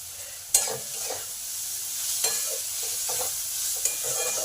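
Grated carrot fries in a pan with lightly fried onion, a soft continuous sizzle broken by several sharp scrapes and clacks of a spatula stirring, close and clear with no voices.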